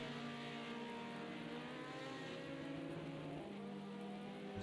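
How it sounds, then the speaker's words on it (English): Rain during a BMW 2002 race at the Nurburgring, a dense continuous hiss of falling rain blended with a steady engine drone, faint and even throughout, with no voices. "So the rain was a huge surprise on all these guys."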